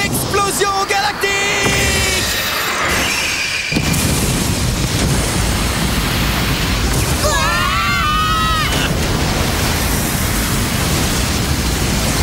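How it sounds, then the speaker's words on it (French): Anime special-attack explosion effect from a Beyblade Metal Masters battle, a long roaring noise burst that stays loud for many seconds, with shouting voices and a whooshing swirl partway through. "Coup spécial! Explosion galactique!"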